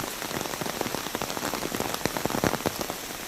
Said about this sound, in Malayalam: പൊരിഞ്ഞ മഴ